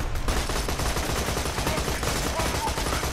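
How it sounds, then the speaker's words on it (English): Fiery saw blades fired from a vehicle in Borderlands 2 make a dense, continuous burst of rapid shots and crackling impacts, loud and close, with no pause over a few seconds. "I'm only firing fiery saw blades at him"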